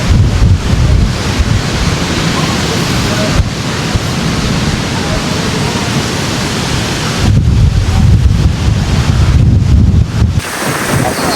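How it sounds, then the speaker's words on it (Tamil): Rough sea waves crash and surge along the Keerimalai coast in a loud, close, broad roar, with heavy wind buffeting the microphone and brief dips as the surge ebbs. "இந்த கடலுடைய வேகம் பாருங்க அடிச்சுட்டு எங்கே வருது அந்த தண்ணி"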